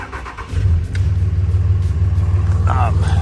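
A Chevrolet El Camino engine fires up and settles into a steady, deep idle to warm up, a loud, close rumble after a brief cranking start.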